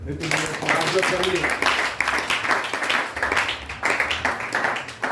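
Church congregation clapping together in acclaim of the Lord, a steady, fairly loud wash of applause mixed with cheers and voices calling out, continuing throughout.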